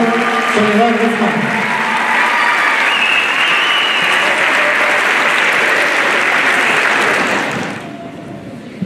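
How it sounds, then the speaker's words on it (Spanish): An audience at a school's end-of-semester event applauds the school orchestra and its conductor, a dense, steady wash of many hands lasting several seconds before tapering off quickly at the end. "Recibamos con un fuerte aplauso a la orquesta del colegio y a su directora Soledad Guzmán"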